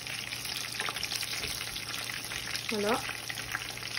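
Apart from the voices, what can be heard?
arancini frying in oil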